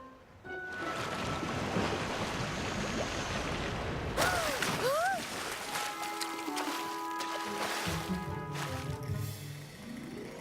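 Ocean surf rushes steadily in a cartoon pony scene, a broad continuous wash of waves that thins after a few seconds as tonal music and effects rise over it.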